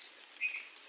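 A single bird gives a short, faint chirp from a distance in a rainy village setting near a pond, heard alone against a soft, steady hiss.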